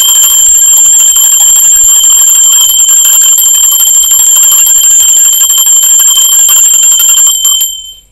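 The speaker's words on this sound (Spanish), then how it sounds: "Ahora sí, va campana" A bell rung continuously and loudly up close, a bright metallic ringing with rapid repeated strikes sustained for about seven seconds before cutting off abruptly.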